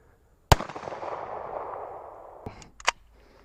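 Outdoor fireworks go off: a sharp launch bang, then a long crackling, hissing burn that fades, followed by two more quick pops near the end, fairly close and loud.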